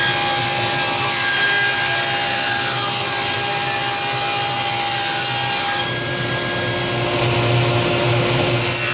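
A saw cuts a glued-up wooden panel for a bread box top, a loud, continuous, close rasping whine that runs unbroken throughout with only a slight dip in tone partway through.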